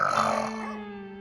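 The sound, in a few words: woman snoring loudly at night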